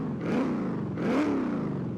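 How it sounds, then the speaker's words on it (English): A Forza Horizon 5 video game car on its stock exhaust revs twice, two moderate rising-and-falling engine swells with a mild, smooth tone. "So a stock car would sound a bit like this."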